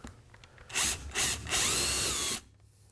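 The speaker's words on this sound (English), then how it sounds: "now I'm going to drill these rivets out so that we can disconnect the post" A power drill whines in three short bursts, the last one longest, drilling out rivets on a 1967-72 Chevy pickup vent window with a high grinding metal tone, then stops.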